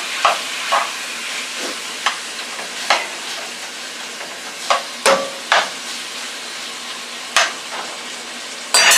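Pork stir-fries in a frying pan on a stovetop with a constant bright hiss of hot oil, punctuated by several crisp clatters of a spatula tossing the meat, close up and without talking.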